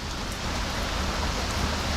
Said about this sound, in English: Like, that's how much it's raining.